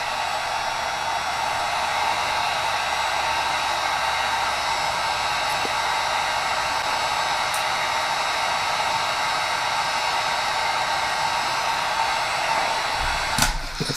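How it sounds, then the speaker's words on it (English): A heat gun blows hot air steadily and loudly for the whole stretch, warming plastic action-figure wings until they soften. It ends with a brief click or clatter near the close. "let's just go ahead and turn this heat gun on"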